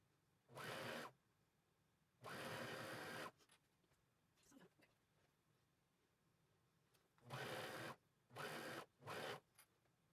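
Sewing machine stitching a dress, several short bursts of rapid whirring stitches with quiet pauses and faint handling noise between them.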